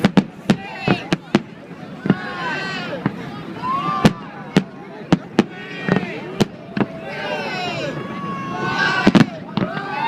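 New Year's Eve fireworks bursting over San Francisco Bay, a steady series of sharp distant bangs and crackling pops with whistling, shooting-star trails, while an outdoor crowd talks and reacts throughout.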